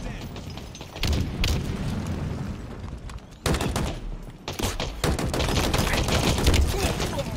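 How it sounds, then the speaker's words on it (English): A grenade blast and bursts of gunfire in a Halo Infinite arena match on the Bazaar map, with sharp loud bangs around one and three and a half seconds and rapid shots continuing after, without speech. "Grenade out!"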